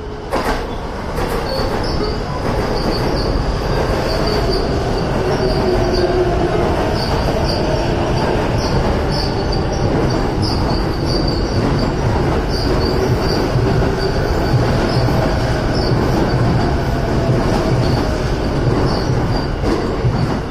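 A Chuo Line train rolls through Tokyo Station with a loud steady rumble, wheels squealing and rattling over the tracks for the whole stretch, no talking.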